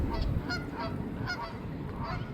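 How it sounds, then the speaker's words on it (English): Several geese or ducks honk and quack in repeated nasal calls at a spring park pond, moderately distant over a steady outdoor background hum, with no talking. "Listen to the ducks."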